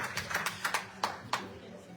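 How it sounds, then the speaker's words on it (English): A few people clapping in a round of applause at a Sharad Navaratri gathering in a Hindu temple, seven or so distinct claps in a loose rhythm that fade quickly, with talk underneath. "Let's give Uncle Bansing a lovely round of applause"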